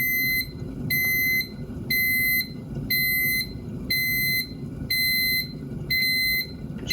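Kitchen oven beeping insistently in a steady repeating pattern, about one long high-pitched tone each second, loud and close over a low background hum.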